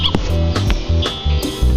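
A video-game dog gives a run of short, sharp barks and yips in quick succession, loud and close.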